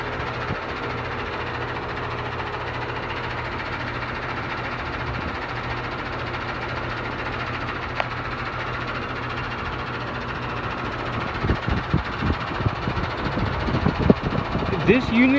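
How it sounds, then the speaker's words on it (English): A 2013 Heil 3-ton central air conditioner runs in cool mode with a steady, even fan-and-compressor drone heard up close, and a person starts talking near the end. "2013 Heil central air conditioner. It's a 3-ton unit. It turned on as soon as I started recording"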